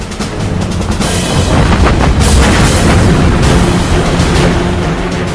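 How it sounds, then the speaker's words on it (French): Loud, heavy naval cannon fire from Japanese warships booms in a dense barrage, with deep rumbling blasts overlapping throughout. "Les Japonais font feu bien avant d'être à portée de tir des Américains."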